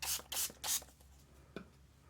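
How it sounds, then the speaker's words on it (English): Water is sprayed onto a scribbled journal page in three quick spritzes from a spray bottle, close and crisp, followed by quiet and a faint light rub. "And then spray it with some water."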